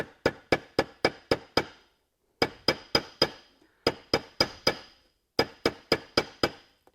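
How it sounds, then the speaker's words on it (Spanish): A small hammer crushing stones for a stone picture, sharp hard clicking strikes in four quick bursts of about five to six blows each, close and alone. "con un martillito vamos a ir poco a poco machacando"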